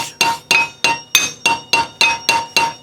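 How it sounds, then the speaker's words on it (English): A hammer strikes a rivet top, flattening it into a die: nine sharp metallic blows at a steady pace, each ringing briefly, close and loud. "all you actually do, I mean it's kind of easy actually, is you just hit the top and mushroom it out into the die that you just made"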